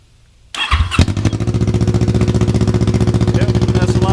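A motorcycle engine with an open header and no muffler cranks and fires, then settles into a loud, rapid, even idle that thumps steadily close by for several seconds.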